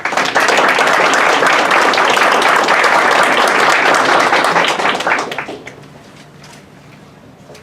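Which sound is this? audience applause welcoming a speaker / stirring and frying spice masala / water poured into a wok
audience applause welcoming a speaker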